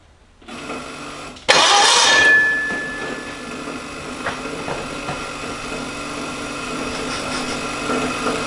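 A diesel engine cranks over and catches with a sudden loud burst, then settles into a steady, fairly close idle, with scattered clanks over it.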